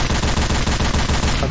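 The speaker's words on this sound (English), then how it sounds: "Where there is a fucking heavy machine gun." Mounted heavy machine gun in Left 4 Dead 2 blazing continuously, a dense, loud, rapid rattle of shots sustained for the whole span without pause.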